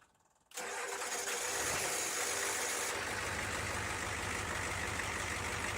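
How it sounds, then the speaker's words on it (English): A Ford 7.3 IDI diesel engine with a new DB electrical starter and fresh glow plugs cold-starts after a brief quiet moment, catching at once and settling into a loud, steady, rumbling idle close by. "we'll do a cold start for the third test"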